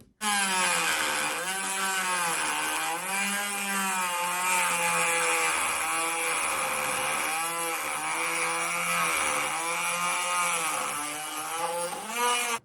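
A Dremel rotary tool with a cooler attachment cuts plexiglass, giving a loud, continuous high-pitched whine whose pitch swells and dips as the cutting load changes, close up with no talking.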